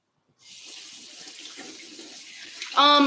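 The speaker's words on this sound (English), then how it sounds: "now I'm gonna wash my little hands" A sink tap runs steadily at close range as hands are washed during a cooking class, with a soft, even splash for about two seconds. A brief voice cuts in at the end.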